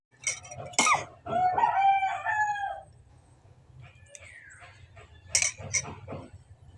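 A rooster crows up close among other chickens, with bursts of loud crowing and a few clucks, separated by a quieter stretch.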